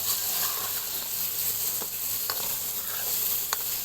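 Chili powder and tomato mixture frying in a pan for pasta, stirred with a utensil: a steady close sizzle with a few sharp scraping clicks against the pan.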